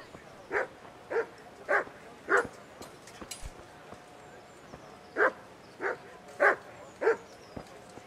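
A dog barks in Kingdom Come: Deliverance, giving a string of short, evenly spaced woofs at moderate distance, briefly pausing midway, over a quiet background.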